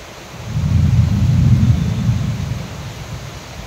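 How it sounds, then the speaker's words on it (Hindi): Heavy rainy-season rain pours steadily while a deep roll of thunder swells and fades, loud and close, with no voices. "एत जोर वर्षा होची देखा भी जाऊनी"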